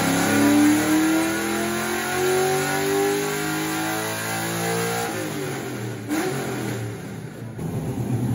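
A Toyota 86 engine revs hard on a dyno, rising steadily in pitch to a sustained loud howl before the throttle lifts and it falls back to a rough, burbling idle with small blips. Close and loud, with no talking.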